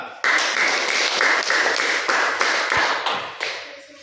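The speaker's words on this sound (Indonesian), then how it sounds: "Beri tepuk tangan kepada kelompok 2" Primary school pupils clap in unison for their classmates' group, a crisp, rhythmic burst of rapid claps starting abruptly and staying loud and close to the end.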